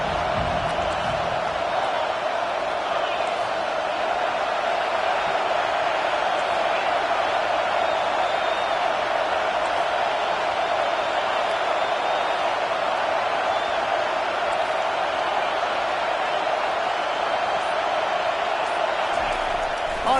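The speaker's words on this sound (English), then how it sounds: "Listen to this crowd just shaking the girders of this place" Stadium crowd noise in the Madden 24 American football video game forms a loud, steady roar that fills the whole stretch without let-up, with a commentator's voice talking over it.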